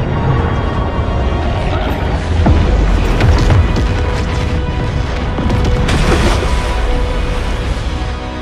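A heavy explosive blast strikes an underground plant-root barrier in an action film, a loud sustained rumbling boom with crashing debris and repeated impacts, dense and overwhelming throughout.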